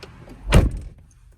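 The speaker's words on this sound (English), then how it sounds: "Door closing sound also is actually very nice." A Renault Vel Satis 2.0T car door swings shut with a single solid, muffled thunk, close by, followed by a quiet interior hush.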